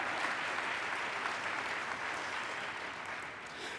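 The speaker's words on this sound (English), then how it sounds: "That's an applause." Soft, even applause from an audience at the 2012 NCLR awards gathering, a continuous wash of clapping that eases off slightly toward the end.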